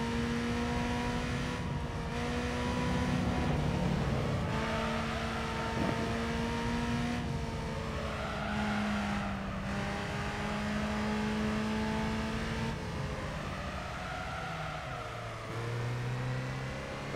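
A car engine in the Gran Turismo 3 racing game revs and shifts repeatedly, its pitch climbing and dropping through several gear changes in a steady, sustained whine with no talk.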